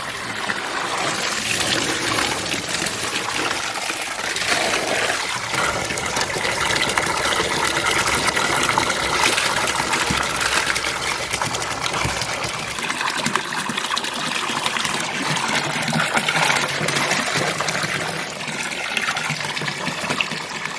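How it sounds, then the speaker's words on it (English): Water pours and trickles steadily for a long stretch, a continuous close splashing flow that wavers slightly in strength. "I drain that last little bit of water out of there so this isn't frozen for me"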